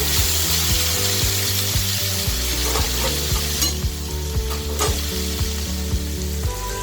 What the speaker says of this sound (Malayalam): അല്പം ഉപ്പിട്ട് കൊടുത്തു കഴിഞ്ഞാൽ സവാള പെട്ടെന്ന് വഴന്ന് കിട്ടും.